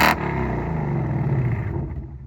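A 2024 Ford Mustang with active exhaust valves and an MRT H-pipe, revving: a steady, close, throaty rumble that holds and then tapers off at the end.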